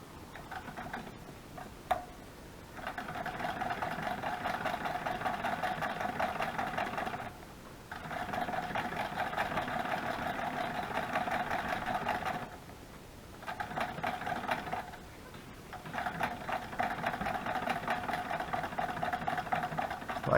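A sewing machine stitching a chicken junk journal cover, fast steady mechanical ticking in several bursts separated by short pauses, close and moderately loud.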